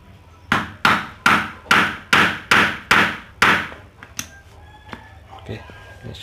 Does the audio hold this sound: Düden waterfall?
no